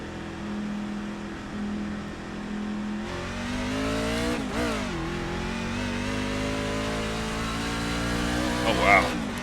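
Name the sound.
race truck engine accelerating in iRacing video game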